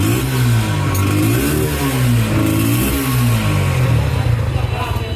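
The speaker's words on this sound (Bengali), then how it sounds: "চলো আমাদের নতুন বাইকের সাউন্ডটা একটু শোনা যাক" A motorcycle engine revs loudly up and down, its pitch rising and falling in waves before settling into a steady idle.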